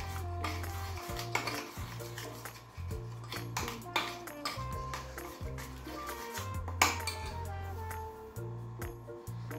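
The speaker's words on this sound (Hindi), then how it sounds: "तो इसको आपको अच्छे से फेंट के लेना है ऐसे दही को और बेसन को।" A utensil whisks yogurt and gram flour into a thick batter in a bowl, repeated rhythmic clinks and scraping strokes with metallic ringing, close and moderately loud, with no talking.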